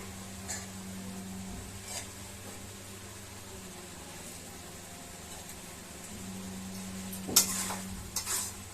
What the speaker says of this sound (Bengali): এবার এটা নেড়ে একটু ঢাকা দিয়ে রেখে দেবো